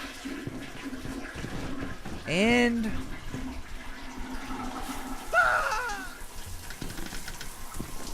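A toilet flushing in the Ghostbusters video game, a watery rush running under faint background noise, with two brief tonal swooping sounds rising over it.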